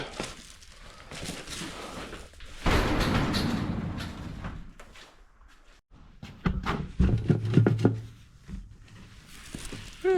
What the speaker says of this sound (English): this is my door lock